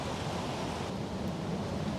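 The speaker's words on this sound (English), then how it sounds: "you can probably hear the wind blowing now" Wind blows in gusts outdoors at a stormy overnight camp, a steady soft rushing noise with no distinct peaks, faint and continuous with no voices.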